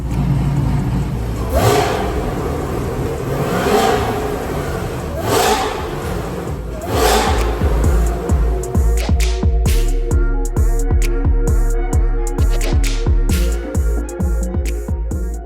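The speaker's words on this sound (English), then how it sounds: "I'm gonna give you guys a quick rev so we can hear the supercharger, factory supercharger, of course" A factory-supercharged Corvette Z06 revs loudly up close, with several long rising swells of engine roar early on, then a rapid run of sharp, choppy blips and crackles as the throttle is stabbed repeatedly.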